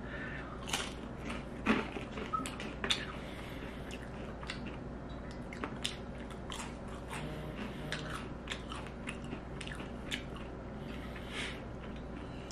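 Crisp crunching bites and chewing on a Taco Bell Flaming Hot Doritos Locos taco shell filled with lettuce, cheese and ground beef, a close series of sharp cracks followed by quieter munching, with no talking.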